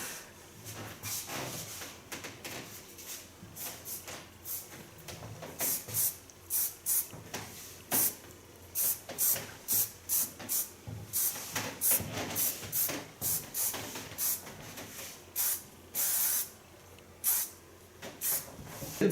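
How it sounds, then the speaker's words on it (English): An ultra soft, factor 3 hairspray is sprayed in many short, sharp hissing bursts, close by and fairly quiet, coming at an uneven rhythm with brief pauses between them. "A little bit hairspray, not too much."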